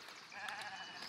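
Sheep bleat in the farming and city-building game Foundation, a soft wavering cry over a faint background hum, heard alone and fairly quiet.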